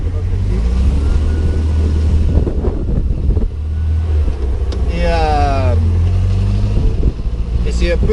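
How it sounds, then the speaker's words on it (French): A Volkswagen Beetle-based beach buggy kit car with a shortened chassis is driven, its engine giving a steady low drone from start to finish while someone talks over it. "Donc c'est un beach buggy."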